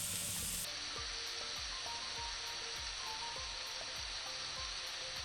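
Mushrooms sizzling and frying in a pan for soup, a steady bright hiss with a soft periodic stirring rhythm beneath, close and alone with no talk.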